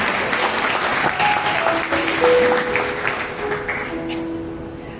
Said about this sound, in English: Can we clap for Nathan, please?